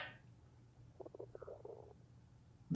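A short, faint, sputtering burst of low rumbling pulses breaks an otherwise quiet stretch, ending in a brief thump.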